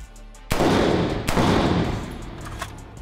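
A rifle fitted with a Griffin Armament adjustable gas block fires unsuppressed, giving two sharp, loud reports about a second apart, each with a ringing echo tail, close by and without talk.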